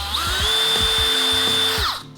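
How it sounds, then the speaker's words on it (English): A power drill bores a hole for a fuse in a homemade Fourth of July cannon, a close, steady high whine with small knocks and chatter from the bit, then winding down abruptly at the end. "Means the drill fell into the free space inside."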